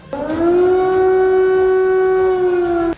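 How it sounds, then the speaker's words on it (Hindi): A steady, loud air raid siren in Kyiv holds one droning pitch for about three seconds, then cuts off sharply. "कीव में लगातार खतरे के सायरन बजने शुरू हो गए"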